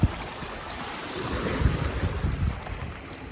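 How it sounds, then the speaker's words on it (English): Strong wind buffets the microphone in uneven gusts at the coast in Newport, with surf rolling and washing nearby; no voices. "It's also really windy, so the waves are gonna be picking up a lot"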